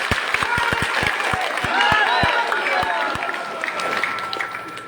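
Crowd clapping at a political rally in Lakhimpur, a loud, dense mass of applause with cheering voices mixed in.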